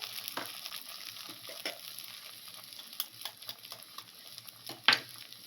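Egg cracked into a hot pan for egg rice, a steady soft sizzle and frying crackle with light scraping and a sharper tap near the end, no talking.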